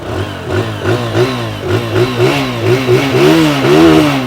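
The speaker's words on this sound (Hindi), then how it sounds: "आइडियल कंडीशन पर इंजन साउंड, एग्जॉस्ट नोट।" A motorcycle engine revs repeatedly with the throttle, its pitch rising and falling in quick rhythmic swells, loud and close.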